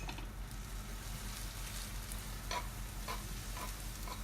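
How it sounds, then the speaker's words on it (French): A pork sauce charcutière with sautéed onions and a little water sizzles softly in a pan while being stirred, with a low steady fry and a few faint scraping taps. "Et on mélange le tout"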